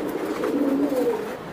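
Racer pigeons coo nearby in a soft, low, warbling call that rises and falls once over a steady background hum.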